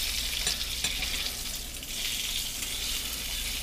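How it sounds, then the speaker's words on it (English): Thick-sliced bacon fries in a pan on high heat, giving a close, even sizzle with a couple of sharper crackles early on and no talking. "So now we're just waiting on perfect bacon"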